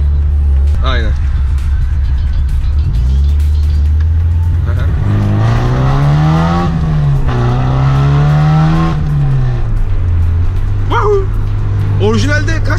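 A Ford Fiesta XR2i hatchback, tuned from 103 to about 140 horsepower, idling then revving hard, the engine note climbing and holding high before dropping back to a loud close idle, with people talking over it.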